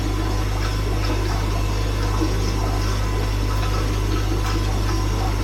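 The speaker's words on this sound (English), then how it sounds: "I'm now going to open my drain valve underneath and get rid of that now cloudy water." Cloudy water drains from an aquarium through a valve underneath, holding the sand bed after a leak fix, giving a steady continuous rushing flow under a low constant hum, with no talk.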